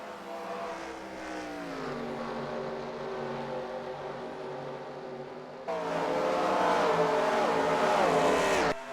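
Stock cars lapping Dover International Speedway in NASCAR Racing 2003, a steady droning engine roar that shifts in pitch as cars pass, growing louder near the end; no talk.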